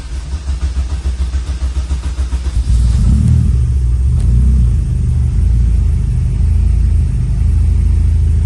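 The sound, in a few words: car engine cranking and starting after fuel injector install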